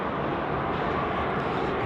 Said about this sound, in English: Oh, she's 1535, runway 16 right, cleared for takeoff.